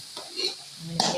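Mixed vegetable curry being stirred in a pan, with a soft scraping stir and a light sizzle that grows louder near the end, close and brief.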